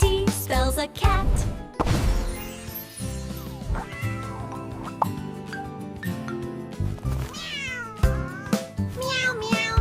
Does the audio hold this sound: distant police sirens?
no